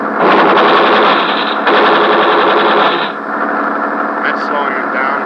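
Dense, continuous burst of staged gunfire in a vintage radio drama, loud rapid automatic fire that fades slightly partway through, with a voice faintly mixed beneath.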